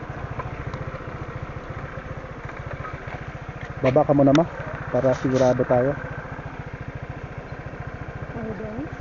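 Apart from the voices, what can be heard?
motorcycle engine on a dirt trail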